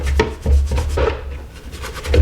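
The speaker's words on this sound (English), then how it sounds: "Just giving it a good scrubbing." An animal skull is scrubbed clean with a brush, giving a series of close, rasping strokes in an uneven rhythm, each stroke a short scratchy burst with no speech.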